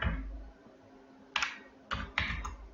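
Typing on a computer keyboard while entering invoice details into an Excel sales ledger: a few separate key clicks and short bursts, close and clear, with no one talking.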